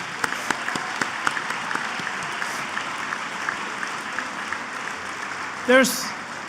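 Steady applause from a banquet audience honoring alumni at an awards dinner, a soft, even wash of many hands with a few sharper claps, ending in a brief rising whoop or whistle near the end.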